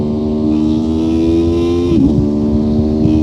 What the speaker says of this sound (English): Listen to that V4.